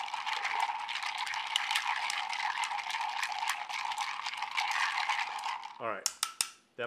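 Ice cubes clatter and rattle steadily against a mixing glass as a bourbon cocktail is stirred, a dense continuous jingling that runs close and loud for several seconds before breaking into a few sharper clinks and then stopping.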